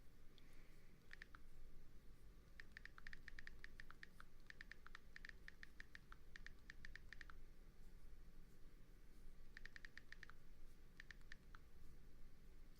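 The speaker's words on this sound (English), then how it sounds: "Yeah, the typing" Rapid bursts of typing on a computer keyboard, close and crisp, with runs of quick keystrokes separated by short pauses over a steady low background hiss.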